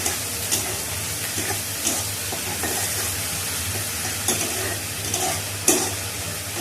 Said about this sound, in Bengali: ধনে জিরা দেবো, দিয়ে এখন তেলের উপরে ভেজে নেব।